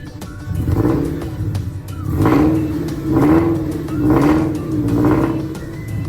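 Engine of a low car creeping slowly up trailer ramps, nearby and fairly loud, rising and falling in several gentle revving swells.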